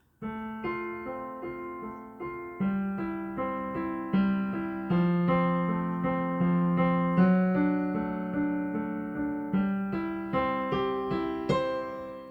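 A solo piano plays a moderate-paced melodic passage with chords underneath, notes ringing and decaying one after another, close and clear.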